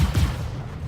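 A ship's cockpit-controlled turret fires in Star Citizen 3.3.5, a single short heavy burst at the start that decays into a dull fading rumble, with no voices.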